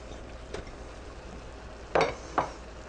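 Onion and green pepper dropped into a chili pot and frying, a soft steady sizzle broken by a few scraping stirs and utensil knocks against the pot.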